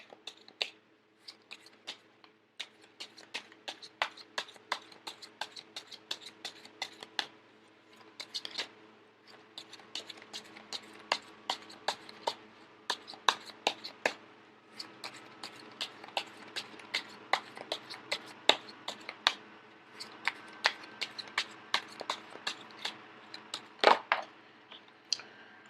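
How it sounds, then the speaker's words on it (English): Tarot cards are shuffled by hand, giving a long run of quick, crisp riffling snaps and soft slides that come close and moderately quiet, with only brief pauses between bursts. "I am going to shuffle until the first card pops out"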